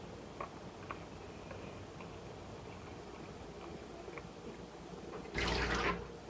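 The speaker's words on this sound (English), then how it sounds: "I'm going to add just a smidge more water." Water poured into a pot of green beans being cooked down, a short, bright splashing pour near the end after a stretch of quiet kitchen background with faint clinks.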